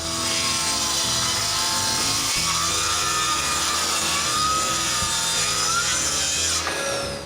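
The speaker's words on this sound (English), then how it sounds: "Now I need to cut the back of the top of the base." A power saw cuts through the wooden back panel for the top of a closed bookcase base, a loud, steady whining rip that holds for about seven seconds before cutting off abruptly.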